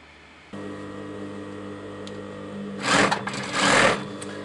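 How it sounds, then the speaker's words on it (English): Sewing machine stitching a Petersham ribbon waistband onto a skirt, steady motor hum starting after a half second of quiet, then two louder bursts of fast stitching near the end, close and alone. "I stitch it down"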